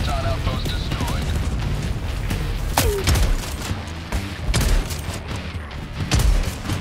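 Gunfire in Helldivers 2 during a fight at an Automaton outpost, with loud booming shots and thuds in rapid bursts over a dense battle rumble, while someone talks over the action.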